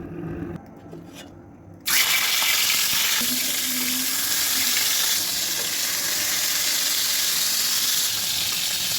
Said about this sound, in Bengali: একটা একটা করে মাছগুলো ছেড়ে দিব